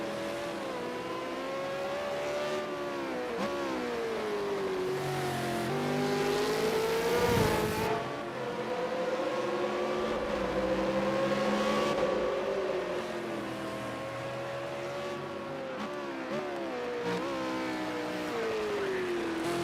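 A Super2 race car at Long Beach, 2019, its engine roaring steadily near and loud, pitch climbing and dropping through gear changes, with a hard downshift and a brief burst under braking midway.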